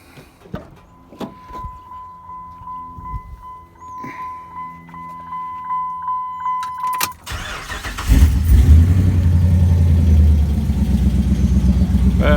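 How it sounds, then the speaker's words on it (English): Clicks and a steady electronic chime lead up to a race truck's V8 engine cranking and catching, then a loud, rumbling idle with a lopey, uneven beat and a header exhaust leak. "I'm gonna go ahead and fire it up"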